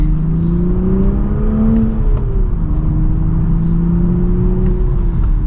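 A 2023 Toyota GR Supra with a manual gearbox accelerates hard in second gear, heard from inside the cabin. The engine note climbs and swells in a loud, steady drone, with no talking.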